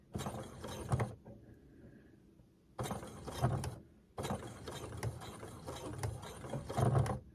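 A sewing machine with a drop-in bobbin case runs slowly on a straight stitch, its close mechanical clatter coming in bursts separated by brief pauses.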